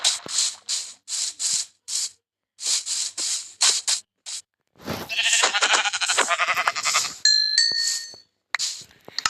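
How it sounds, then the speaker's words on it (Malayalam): Goats bleating in Minecraft: a run of short, sharp in-game bleats in quick bursts, then a busier stretch of clattering game sounds and chimes. "മീനെ കൊല്ലേണ്ട കാര്യമില്ല, അവിടെ 2 ആട് സ്പോൺ ആയിട്ടുണ്ട്."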